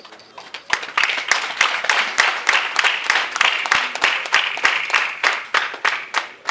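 Audience applause at a ceremony, a dense wash of clapping with sharp individual claps standing out regularly, steady and fairly close, with no talking.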